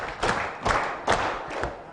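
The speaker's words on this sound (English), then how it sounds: "We are going to clap 4 times." Four loud, evenly spaced unison claps from a panel-discussion audience ring out one after another in a quiet hall.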